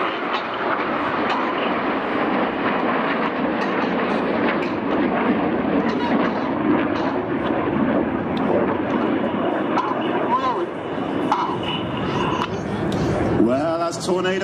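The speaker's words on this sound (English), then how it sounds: "Red 1 about to bank the aircraft to the left, changing smoke colour as they go." Red Arrows display jets fly overhead at the New York International Airshow, a continuous distant rumbling roar that stays fairly steady, with a brief sharper swell near the end.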